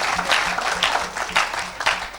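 Church congregation applauding and cheering for Jesus Christ during an evangelistic service, loud rhythmic clapping in waves with a low crowd murmur underneath.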